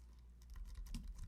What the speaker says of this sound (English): I'm going to type in tail control